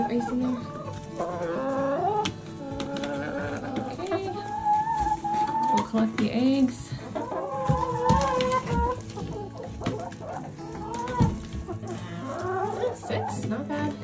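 Chickens clucking inside a snowy coop in -35°C weather, a chorus of nearby clucks and squawks throughout, mixed with a person speaking briefly about collecting eggs.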